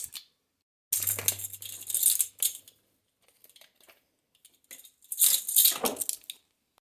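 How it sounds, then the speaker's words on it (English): Dry ingredients for cinnamon sugar candied walnuts, including walnuts, heaped cinnamon and salt, being mixed in a bowl, with close bursts of clattering, rattling nuts and spoon clinks separated by pauses. "Let's go ahead and mix these dry ingredients together really well"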